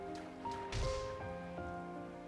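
Rain falling in the video game Xenoblade Chronicles 3, a steady soft patter layered under sustained musical tones from the game's soundtrack, with no voices.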